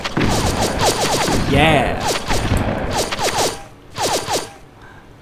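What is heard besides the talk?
shotgun firing in a video game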